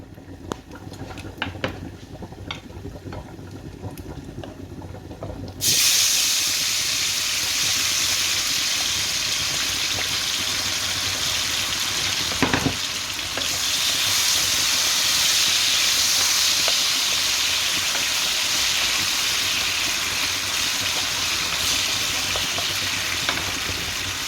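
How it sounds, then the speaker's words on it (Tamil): Potato pieces frying on their own in hot oil, after a batch of chicken, sizzle with a loud, steady hiss that starts abruptly and keeps going without a break. "உருளைக்கிழங்கு சேர்த்தும் பொறிக்கலாம் நான் தனியாக பொறிக்கிறேன்"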